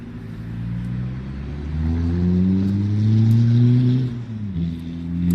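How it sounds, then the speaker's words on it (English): A passing car with a rough, unhealthy-sounding engine that seems to need a tune-up, heard outdoors on the Bobcat Trail: a loud, rising and falling rev as it drives by close. "their engine seems like it really needs like a tune-up or something. It doesn't sound healthy."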